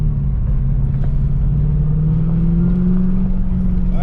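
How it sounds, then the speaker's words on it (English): A 1996 Chevrolet Corvette Grand Sport C4 engine runs steadily throughout, giving a loud, continuous low rumble from inside the car while a faint whine slowly rises in pitch. "This engine's pretty smooth."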